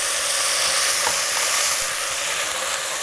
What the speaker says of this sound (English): And we stir briskly